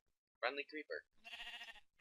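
A Minecraft sheep bleats in the game, a short wavering call heard near and clear, preceded by someone talking briefly.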